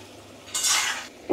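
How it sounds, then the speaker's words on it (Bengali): Fried eggplant pieces tip into a pan of mustard-oil paste with a short, close burst of clattering sizzle lasting about half a second, then quieter pan noise. "আর এখন এই ভাজা বেগুনগুলো দিয়ে দেব"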